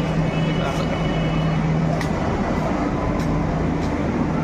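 A Delhi Metro train rumbles steadily with a low, continuous roar and faint squeaks, a constant hum filling the space from start to finish.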